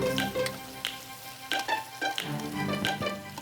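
Shredded chicken frying in a pan for chicken pastil, with steady sizzling broken by several sharp stirring scrapes and clatters at a close, moderate level.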